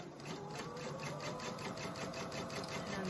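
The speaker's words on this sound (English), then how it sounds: "And sew it all the way out." A sewing machine stitches a scrappy fabric chicken coaster. Its needle chatters in a fast, even rhythm that sits fairly quiet and close, with no voices.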